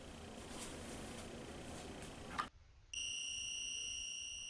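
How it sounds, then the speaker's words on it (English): A rapid egg cooker's alarm sounds after a cooking cycle for seven eggs, a steady high-pitched electronic buzz that begins abruptly after a brief quiet gap and holds continuously to the end. "now the time has gone by and the alarm has gone off"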